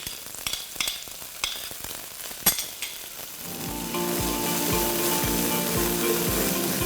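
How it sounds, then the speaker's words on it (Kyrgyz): Onions frying in vegetable oil, first a few clinks and stirring knocks, then a loud, steady close sizzle that fills the second half. "Андан кийин биз пиязды кууруп алабыз бир аз."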